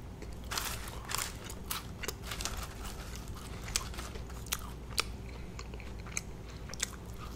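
Crumbly WingStop French fries being chewed close up, with crisp crunches and sharp crackling bites scattered over a low background, no talking.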